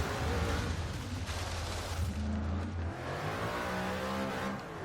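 Supercharged 5.4 liter Ford V8 in a Ford GT in Forza Horizon 3, a loud, steady engine roar that swells and shifts pitch as it revs, close and continuous with no talk over it.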